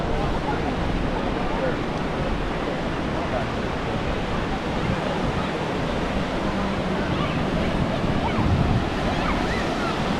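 Rough ocean surf at Siesta Key beach during Hurricane Milton: a constant, loud roar of breaking waves with heavy wind buffeting the microphone throughout.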